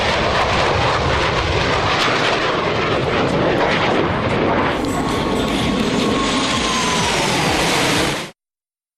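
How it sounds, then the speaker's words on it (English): An airplane takes off with a loud, steady engine roar that holds close and full for about eight seconds before cutting off abruptly. "You are clear for takeoff."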